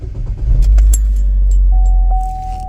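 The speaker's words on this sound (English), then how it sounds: "When you start your car" A Chevrolet Equinox from the 2010–2017 range starts up with keys jingling, then a deep engine rumble swells and settles into a steady idle while a thin dashboard chime tone rings out.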